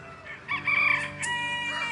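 Chickens of assorted breeds crow and cluck close by, a loud rooster call rising over steady farmyard clucking for about two seconds, with no talking.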